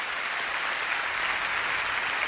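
A concert audience applauds in a continuous, even wash of clapping, fairly distant and moderate in level, with no speech on top.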